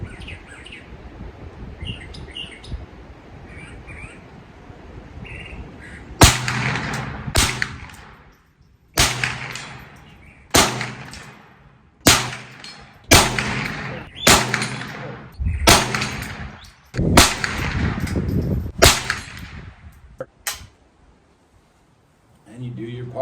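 A Ruger 10/22 carbine rifle fires about a dozen sharp, loud shots at an irregular, fairly quick pace, each crack ringing briefly outdoors, with birds chirping in the background before the firing begins.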